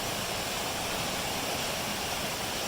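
A clear river rushes over rocks in a steady, broad hiss of flowing water, close and continuous with no voices.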